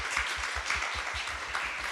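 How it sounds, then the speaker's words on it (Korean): Applause from a church congregation during a youth Sunday service, a dense patter of many hands clapping steadily at moderate level with low thumps underneath, no voices over it. "잠깐만 일어나면 우리 박수로"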